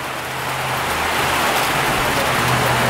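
Steady, dense rain from a heavy thunderstorm roaring continuously, a broad hiss with a low engine-like hum underneath, growing slightly louder throughout.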